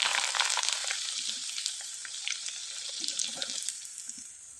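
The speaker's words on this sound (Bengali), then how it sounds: "এবার আমি এখান থেকে কিছুটা নিয়ে ভেজে আপনাদের দেখিয়ে দিচ্ছি।" Wheat-flour reshmi pitha dough pieces sizzle steadily in hot oil over low heat, a dense close crackling hiss with scattered bright pops, no voices.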